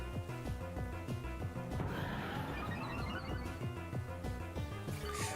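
Horse Pokémon neighing in a Pokémon VGC battle, a steady game whinny over constant looping battle music and effects, fairly faint, with no talking.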